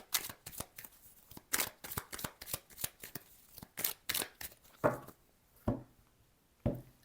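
Tarot cards riffled and cut by hand in a quiet room, a series of crisp papery bursts at an uneven pace, close and fairly loud, with no talking.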